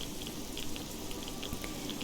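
Steady rain in the video game Fallout 3, a soft continuous patter with scattered droplet ticks, moderately quiet and alone with no talking.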